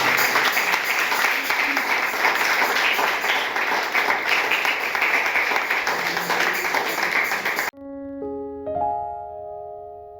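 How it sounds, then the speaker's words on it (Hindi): A church congregation at a Sunday service applauds loudly for about eight seconds, a dense wash of clapping that cuts off abruptly into a few soft instrumental notes. "आइए खड़े होकर अपने परमेश्वर के लिए एक जोरदार तालियों का अर्पण करें।"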